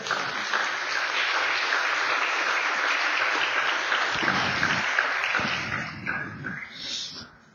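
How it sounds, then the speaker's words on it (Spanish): A church congregation breaks into loud, sustained applause that fills the room for several seconds, then fades out toward the end. "Denle un gran aplauso al Señor."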